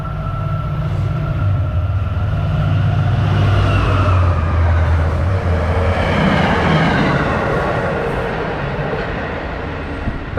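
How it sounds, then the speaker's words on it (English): An MBTA Commuter Rail train passes through Readville station, a loud, steady rumble of wheels and engine with a low drone that swells and holds for about ten seconds before slowly easing, with no talking. "That brief intermission was brought to you by the MBTA Commuter Rail."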